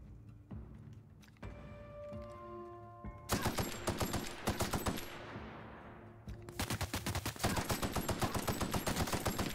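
Automatic weapon fire in The Outer Worlds video game: long rapid bursts of gunshots, loud and dense, broken by a short pause and then a second sustained burst with steady rhythmic shots over a game background.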